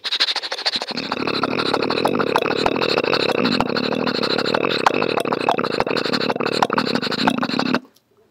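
One voice imitates a train, a motorcycle and a horse-drawn tonga at once: a steady engine drone with regular sharp clip-clopping clicks, loud and close.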